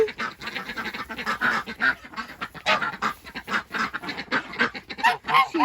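A goose and ducks kept in a farm flock call in repeated bursts of honks and quacks, fairly close and moderately loud, with irregular pauses between the calls.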